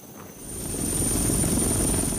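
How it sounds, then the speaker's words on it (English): A helicopter's steady rotor and engine roar fills the clip, loud and continuous, with a thin high whine running above it. "Dozens of helicopters are pulling out as many as they can."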